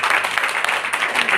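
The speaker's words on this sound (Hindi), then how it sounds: "जोरदार तालियां बजा देंगे।" Brief, loud applause from an audience at a network marketing business seminar, a dense burst of many hands clapping heard alone and close.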